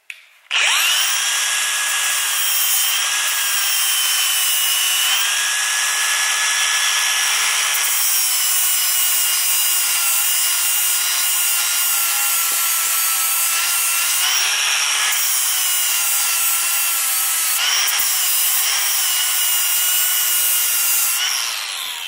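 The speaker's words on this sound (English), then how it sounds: "if you have mower blades and you have one of these with one of these flap discs on here, you can actually go ahead and sharpen your mower blade" A Milwaukee M18 FUEL 2780-20 cordless angle grinder with a flap disc sharpening a steel mower blade, a loud, close, sustained high grinding whine that shifts in pitch as the disc presses and eases on the metal, no talking.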